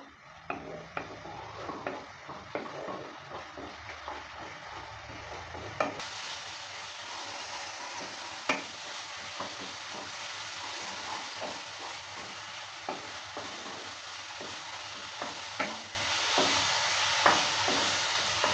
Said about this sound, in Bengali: জলটা দেওয়ার পর ভালো করে আবারও নেড়ে চেড়ে নিচ্ছি